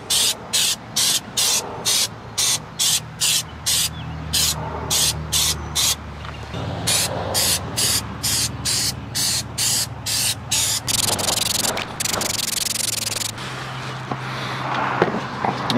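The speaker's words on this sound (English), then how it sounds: "I'll spray around the perimeter here a little bit." A garden sprayer is worked around the perimeter of a raised bed planter, giving repeated short hissing bursts in a steady rhythm, then longer continuous sprays close by.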